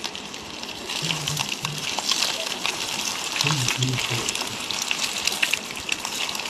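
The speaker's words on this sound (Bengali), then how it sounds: "ডিম একটু ভেজে নিচ্ছি ডিমগুলো শুধু দু ভাগ করে রেখেছি" Halved hard-boiled eggs fry in salted oil, making a bright, steady crackling hiss close by, while someone talks over the cooking.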